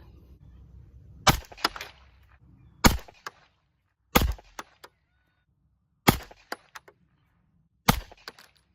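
Five sharp 9mm pistol shots with light handloaded rounds of Accura bullets over HP38 powder in Starline brass ring out at a range, spaced about one to two seconds apart, each with short echoes, loud against a quiet background.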